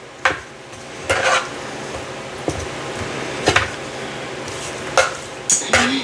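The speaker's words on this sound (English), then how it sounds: "Go ahead and stir that up so it can get on all the sides." Spoon stirring honey garlic sauce over chicken tenders in a Ninja Combi dish, giving a handful of scattered clinks and scrapes against the dish over a quiet background, with nobody talking.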